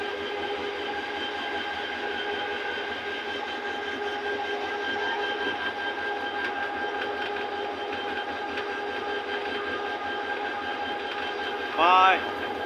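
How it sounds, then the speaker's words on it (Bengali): Train at Akhaura railway junction in Bangladesh, a steady rumbling roll with rhythmic wheel beats and a brief high squeal near the end, heard close and continuous throughout. "আমাদের আখাউড়া রেলওয়ে জংশন।"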